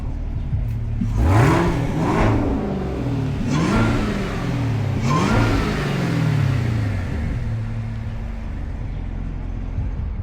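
A Chevrolet Camaro ZL1 with a supercharger revs up close and loud in several rising and falling bursts, its engine roar carrying a rising whine on each rev. No one talks.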